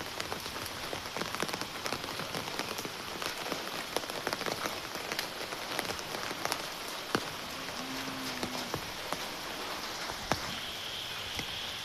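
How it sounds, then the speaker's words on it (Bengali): Steady rain falls on surfaces outdoors in windy weather, with dense continuous patter and occasional louder drips and knocks from nearby. "এই দেখেন বৃষ্টি অবস্থা"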